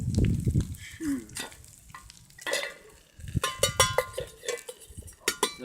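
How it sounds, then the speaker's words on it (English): Steak sizzles on a sizzle plate in bacon grease, a steady frying hiss broken by a few clinks and scrapes of metal, close by with no talk. "Yeah, I got my sizzle plate. Got a steak"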